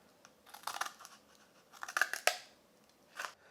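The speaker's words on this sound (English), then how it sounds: "Then all you need is to cut a slot in each piece of card about the same length." Scissors snip a slot into a piece of card in a few quiet, close clusters of crisp cuts, separated by short pauses, with no talking.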